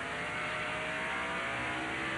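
A 1995 NASCAR Supertruck racing truck engine at Martinsville Speedway, heard as a steady, distant drone of racing engines over a broad noisy broadcast bed, with no voice over it.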